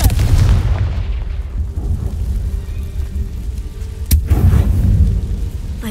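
A Confringo blasting spell in the Hogwarts Legacy video game erupts as a loud, rumbling explosion with a deep booming roar, then a sharp crack followed by another swell of rumble.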